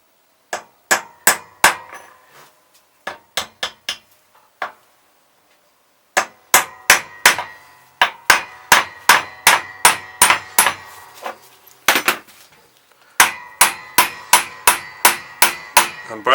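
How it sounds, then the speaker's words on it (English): Sharp metallic hammer blows ring out in steady bursts, loud and close, as a new pipe is hammered into a classic Mini SPi inlet manifold, with brief pauses between series of strikes. "I'm going to hammer it in now"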